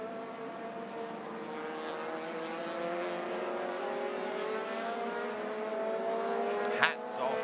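Race car running on the circuit during a Malaysia Championship Series round, a sustained engine note with a slowly shifting pitch carrying through the whole stretch, at moderate distance, with a brief sharper burst near the end.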